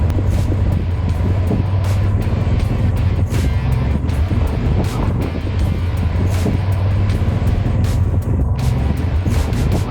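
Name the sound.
motorcycle riding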